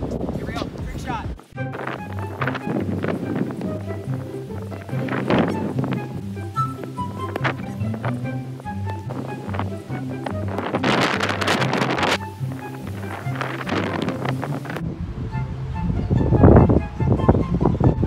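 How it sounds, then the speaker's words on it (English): Strong wind outdoors by the water buffets the microphone in a steady roar with gusts, while people talk throughout. "It's very windy right now."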